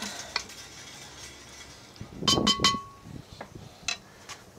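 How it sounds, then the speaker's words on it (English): Beef for Hungarian goulash cooks in a pot under a faint sizzle, with a cluster of metallic clinks and scrapes from a utensil stirring against the pot midway. "our meat is just sizzling away down there in the pot."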